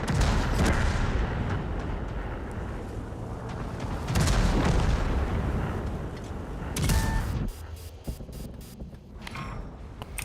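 A video game cinematic in a tank game fills with heavy booming explosions and artillery fire. Several big blasts land over a dense roar, and a run of sharp rapid impacts follows near the end.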